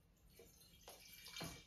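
Home-brew boxed wine runs from the box's tap into a glass in a few short, faint liquid splashes and trickles, close by and quiet, with no one speaking.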